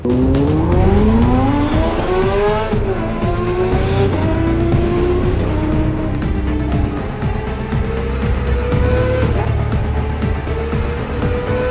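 A race car accelerates hard on a track, its engine rising through several gear changes with a loud, close, sustained roar that climbs in pitch, drops at each shift and climbs again.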